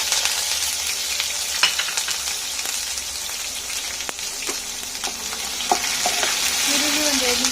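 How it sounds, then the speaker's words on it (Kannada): Chopped onion sizzles and crackles in hot oil with popped mustard seeds and curry leaves, a steady close frying hiss broken by a spoon stirring and occasional scraping against the pan. "ರೋಸ್ಟ್ ಆಗಲಿ ಈರುಳ್ಳಿ ಸ್ವಲ್ಪ ರೋಸ್ಟ್ ಆಗಿದೆ"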